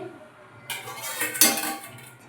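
A metal pot of mutton curry gets a quick stir and a lid clanks on, two close, bright metallic knocks and scrapes within a couple of seconds.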